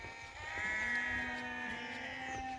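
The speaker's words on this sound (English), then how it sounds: "All the sheep. They've all just been offloaded off that lorry behind. Bleating like mad." Sheep just offloaded from a lorry near Horton in Ribblesdale in the Yorkshire Dales, one long wavering bleat close by with fainter bleats from the flock behind.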